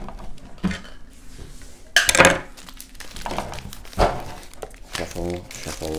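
Cardboard crinkles and scrapes in a few rustling bursts as a basketball card box is opened while a person talks over the handling.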